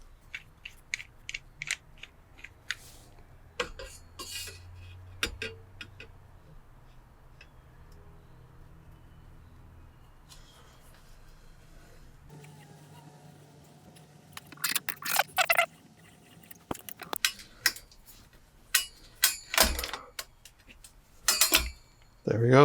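Thin-wall brass tubing clamped in a vise is cut in a garage workshop, with intermittent sharp ticks and rasping scrapes; quiet stretches come first, and denser, louder cutting bursts follow later.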